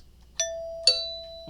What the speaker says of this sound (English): I've got a doorbell here, an old-fashioned magnetic doorbell.